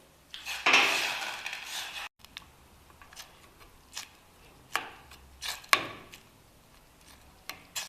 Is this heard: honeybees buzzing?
no